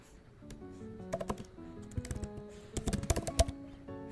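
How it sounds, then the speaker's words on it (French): Keys tapped on a computer keyboard while typing search keywords, a close series of quick clicks coming in uneven bursts and pauses, with no talking. "Je tape vraiment que des mots-clés."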